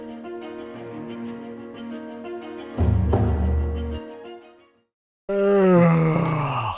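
A man yawns loudly in a long drawn-out groaning moan that swells and falls, breaks into brief silence, then returns as a second rising strained yawn, close and alone.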